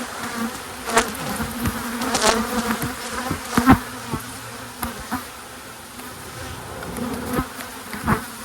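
Honeybees buzz around an opened hive as a beekeeper works the frames, with a dense close swarm drone overlaid by sharp clicks and knocks of hive tools and wooden frames.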